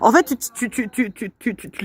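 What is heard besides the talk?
No everyday noises stand out.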